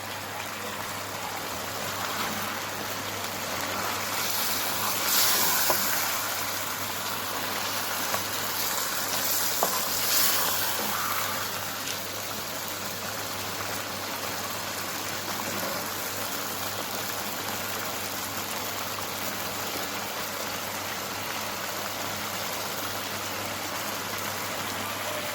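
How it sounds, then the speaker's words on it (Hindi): Tomatoes and mutton being fried on high flame for Turkish karahi give off a steady, dense sizzle that continues without a break, with a few brief louder crackles early on. "अब हम इन्हें भून लेंगे"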